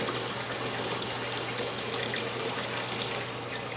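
Steady, even rush of water from an eye wash station fed through a Bradley Navigator thermostatic mixing valve, running at reduced eye-wash flow; a constant hiss that stays unchanged throughout, with no voices.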